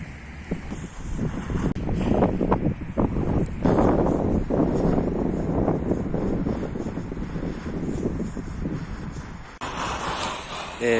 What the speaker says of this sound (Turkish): biraz rüzgarlı bir hava var